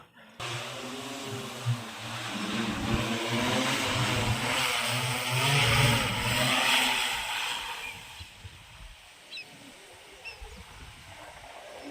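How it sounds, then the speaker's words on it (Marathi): Steady engine-like buzzing with a whirring drone hum as an agricultural drone sprays a sugarcane field, running for most of the stretch, then fading into quieter outdoor background near the end. "सकाळी ड्रोन आलेला आहे चार एकर औषध मारून अर्ध्या तासात निघून चाललेलं आहे"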